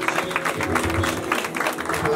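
A church congregation claps together in thanks during a wedding service, a dense sustained burst of many hands that continues without a break.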